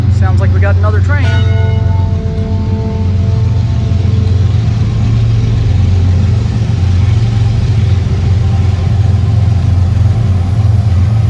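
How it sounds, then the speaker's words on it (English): A train passing near the Yuma Territorial Prison, opening with a brief horn-like tone before a loud, sustained low rumble that rolls on steadily to the end. "Sounds like we got another train."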